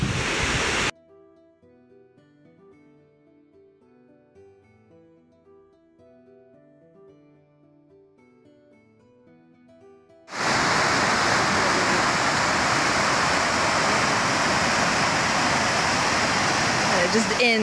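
Waterfall in Iceland: after a long quiet stretch of soft tonal sound, a loud, steady, close rushing roar of falling water takes over abruptly and carries on unbroken to the end.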